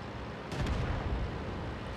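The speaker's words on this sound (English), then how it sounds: "Ooh, artillery." Artillery fire in the tank game World of Tanks, a single heavy, muffled boom that rolls out and rumbles on under a dense, noisy battlefield din.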